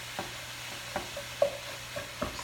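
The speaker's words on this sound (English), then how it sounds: "So I'm just gonna break up all this meat and let it brown in the pan." Ground turkey being broken up and browned in a pan, soft spatula scrapes and stirs recurring about every half second over a faint background sizzle, fairly quiet and close, no talk.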